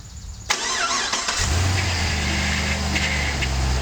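A car engine cranks and catches at about half a second, then settles into a steady, loud idle with a low rumble.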